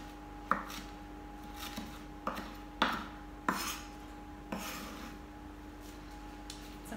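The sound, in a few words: knife roughly chopping mint leaves on a board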